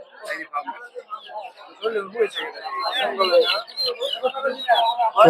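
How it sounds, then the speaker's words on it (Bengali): Farm chickens cluck and squawk in quick bursts at a busy market, mixed with nearby voices and bustle. "এগুলো হচ্ছে ফার্মে মুরগি"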